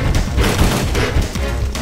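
A grenade launcher fires a burst of grenades in Parasite Eve 2: loud, dense booming blasts with deep rumbling impacts, packed into a continuous barrage with no voices.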